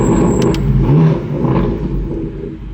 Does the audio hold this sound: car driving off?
yes